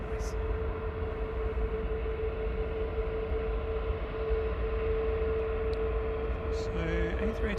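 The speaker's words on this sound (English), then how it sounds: "So, A380's backtracking yet Ryanair to Cologne's lined up." An Airbus A380 backtracking along the runway at Manchester Airport, a steady distant engine drone with a sustained hum, constant and unbroken, and faint voices in the last second.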